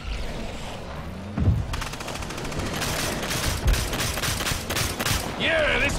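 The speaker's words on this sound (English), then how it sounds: "I like the fact that he's got a minigun and a flamethrower" A minigun fires in the video game Evolve, a fast, dense rattle of rounds that starts after a brief thump and runs steadily for several seconds, with a voice and game effects around it.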